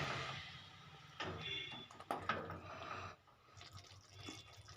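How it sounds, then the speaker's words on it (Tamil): Water pours and splashes into a pot of egg gravy in uneven bursts, with clinks and drips between, fairly quiet and without speech. "தேவையான அளவுக்கு வந்து தண்ணியை ஊற்றி நல்லா வந்து கொதிக்க விடுங்க"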